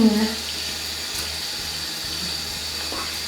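Water runs steadily from a faucet into a sink to rinse hair dye out of brushes, a continuous close splashing hiss with a brief voice at the start.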